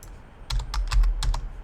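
Close keyboard typing during a SQL injection exercise, a short quiet pause followed by a quick burst of several crisp, clicky keystrokes in uneven rhythm, with no voice.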